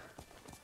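Horse hooves clip-clop faintly in Ghost of Tsushima, a few soft footfalls in uneven rhythm under steady game ambience.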